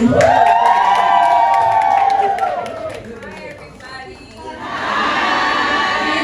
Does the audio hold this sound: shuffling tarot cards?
no